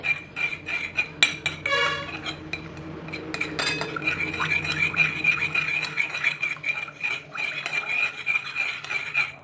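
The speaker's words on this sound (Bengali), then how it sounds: "টক দইটাকে ভালো করে ফেটিয়ে নিতে হবে" Sour yogurt (curd) whisked in a bowl for a cake batter, a fast scraping, clinking rhythm of utensil against the bowl that stays steady and close throughout with background hum.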